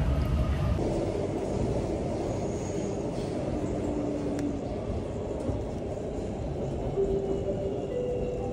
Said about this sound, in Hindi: ट्रेन उधर आ गई